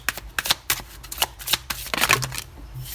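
Tarot cards are shuffled and drawn in a quick series of close, crisp riffling and flicking bursts with short pauses between them, with no talk.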